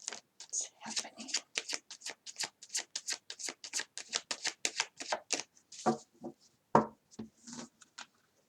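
A deck of tarot cards is shuffled by hand in quick, regular riffling strokes, a dry papery rhythm repeating steadily up close, with a few heavier taps and a voice speaking softly.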